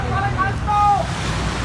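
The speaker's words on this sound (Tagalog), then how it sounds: "makusugin dagat niya." Strong sea surges rush and churn near the shore at Sangali, Zamboanga City, in the Philippines, a loud, continuous wash of water with wind buffeting the microphone and a faint tonal whine above it.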